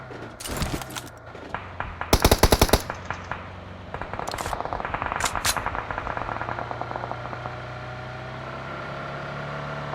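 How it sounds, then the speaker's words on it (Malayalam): Automatic gunfire rattles in an Erangel battle-royale match played at 120 fps, with sharp rapid bursts early on, then a fainter continuous volley under a steady engine-like drone. "അവിടെ ടീമാണ് വെടിവഴിപാട് നടത്തിക്കൊണ്ടാണ് വരുന്നത്"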